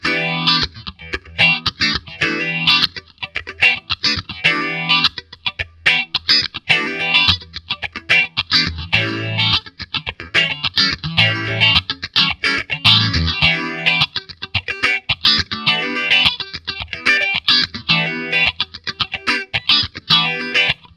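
Electric guitar played through a PastFx Rotary Phaser pedal, a clone of an original EHX design, gives a continuous wash of strummed, distorted chords with a swirling, sweeping phase movement that runs without pause.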